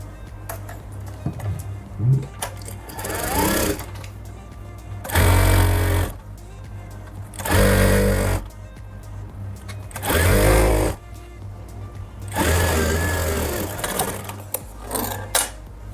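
A sewing machine stitches the front panel of an Afghani salwar in four loud, steady bursts of motor whir and needle rattle, each lasting about a second, separated by pauses with faint handling noise and quieter machine sounds.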